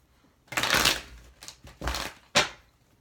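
Three quick riffles of a tarot card deck being shuffled, close and crisp, with short pauses between them.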